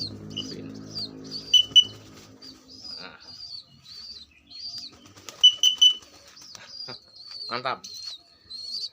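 Young pigeons being trained for free flight flap their wings in short bursts with soft coos and chirps, while someone talks briefly nearby.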